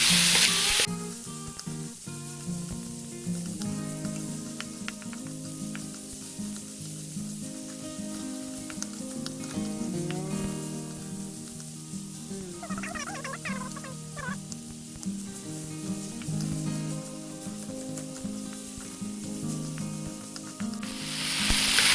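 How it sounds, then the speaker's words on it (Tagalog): Chopped tomatoes cook in a pan for beef tendon sinigang, a soft continuous sizzle running under background music throughout. "Hintayin lang po natin na maluto yung ating kamatis."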